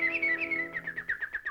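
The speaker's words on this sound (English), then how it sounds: "Why, the birds are singing." Cartoon birds sing a bright series of chirping whistles in a Donald Duck short, a run of quick repeated tweets loud and close with no talk over them.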